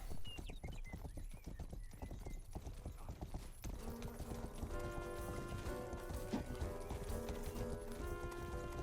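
A horse gallops in the medieval video game Rustler, its hooves beating a fast, steady clip-clop throughout, with sustained tonal music rising underneath in the second half.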